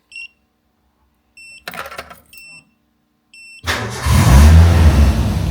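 Supercharged Toyota MR2 engine firing on a cold start after a few short ignition chimes and a fuel-pump whir, then settling into a loud, steady idle close to the microphone.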